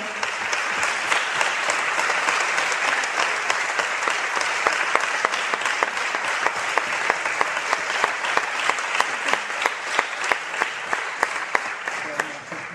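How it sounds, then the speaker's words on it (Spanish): An audience applauds the film director Benito Zambrano at a screening event in Maó, a loud, steady wash of many hands clapping throughout without a break. "un aplauso para él"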